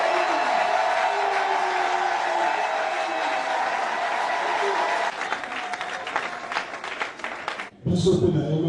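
A crowd at a church political gathering in Congo for Jean-Pierre Bemba claps in loud, sustained applause for several seconds before it breaks off with a sudden loud burst of voices at the end.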